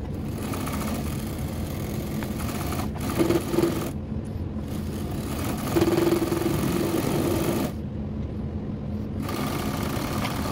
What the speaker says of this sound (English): machine is running, very smoothly now so far.